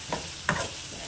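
Eggplant and onion curry stirred in a pan over a lowered flame, two distinct scraping stir strokes over a soft background sizzle.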